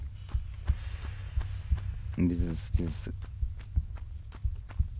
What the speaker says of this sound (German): Dieses Herzklopfen die ganze Zeit und so.